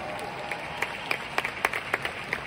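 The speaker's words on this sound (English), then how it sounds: "Can we all give ourselves a round of applause today?" Scattered, light applause from an audience, a handful of distinct claps with some speech-like murmur underneath, fairly faint and sparse rather than a full ovation.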